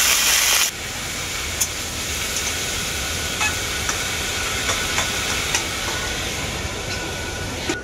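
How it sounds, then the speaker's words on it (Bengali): Data shak greens with salt frying under a lid in a pan give off a steady, loud, even sizzling hiss that runs continuously, with a few faint clicks and no talking. "সবগুলোকে আমি একসাথে খুব ভালো করে ঢাকা দিয়ে ভেজে নেব"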